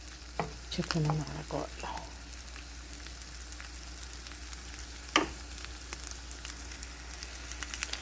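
Food frying in a pan during home cooking of an Ethiopian dish with rice and boiled hot dogs; a soft, steady sizzle with faint stirring knocks, near and fairly quiet, with a voice speaking briefly at the start.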